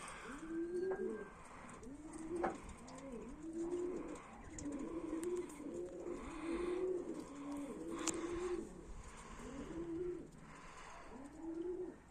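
Pigeons coo in repeated soft, rolling phrases, steady and close, with faint background noise and no talking.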